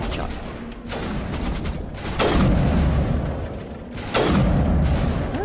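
Three loud sniper rifle shots in the video game Mass Effect, each a sharp crack with a long booming tail, spaced about a second or two apart.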